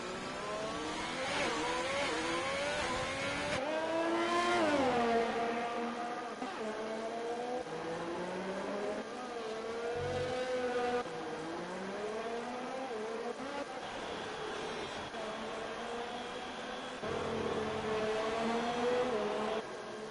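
A Formula 1 car engine on an out lap around the Singapore street circuit in a racing game, heard from onboard, revs high and climbs through gears in repeated rising sweeps, loud and steady for the whole stretch.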